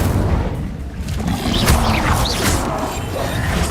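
An Incendio fire spell cast in Hogwarts Legacy on PC: a loud burst of whooshing flame over a rumbling, mechanical game soundscape, with swirling tones rising through the middle.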